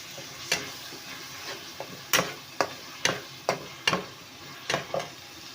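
Tomatoes cook in a pan with browned onion and ginger-garlic paste, a soft sizzle under roughly ten sharp scraping stirs of a spoon against the pan, spaced irregularly, with no talking.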